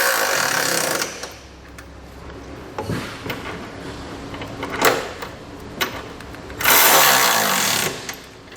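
Curt trailer hitch hardware being tightened on a 2020 Lexus NX 300: bursts of a buzzing power impact tool, loud and close, with short pauses and clanks between runs.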